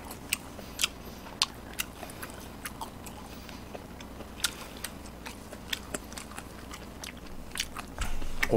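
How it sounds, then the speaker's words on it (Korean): Pork belly meat being chewed close up, with soft crunchy bites and wet mastication clicks repeating irregularly over a quiet background; no one talks. "고기 좀 먹어볼게요."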